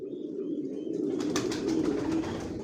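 Racing pigeons coo in a low, continuous murmur close by in a loft, the soft throaty calls overlapping without pause.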